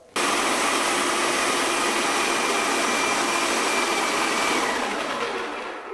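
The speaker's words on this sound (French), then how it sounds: "Ça veut dire que la pompe est en circuit fermé et qu'elle fonctionne." A low-pressure airless paint sprayer pump starts up on its prime setting and runs steadily, drawing wall paint through the hoses, producing a loud continuous motor whine and hum that holds from just after the start to the end.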